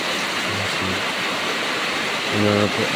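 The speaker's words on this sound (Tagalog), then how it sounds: "Grabe ang lakas ng ulan po." Heavy rain pours down at night in the mountains, a dense, constant hiss filling the space, with a voice breaking in briefly over the downpour.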